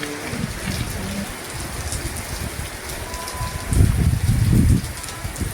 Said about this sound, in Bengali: এই যে দেখো কত বৃষ্টি হচ্ছে